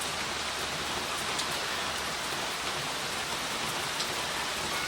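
Rain falling outside in a continuous, fairly loud wash of patter and hiss, unbroken and steady, with nobody speaking over it.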